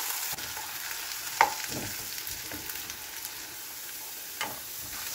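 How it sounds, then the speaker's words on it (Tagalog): Carrots and potatoes fry in oil in a pan, giving a faint, steady hiss with a couple of soft clinks as the pieces are stirred. "iprito natin ang ating carrots at patatas"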